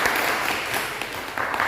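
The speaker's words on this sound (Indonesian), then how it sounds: "Tepuk tangan buat Damar." A classroom of students claps for a classmate during a vocational lesson, a short burst of brisk, close applause lasting under two seconds.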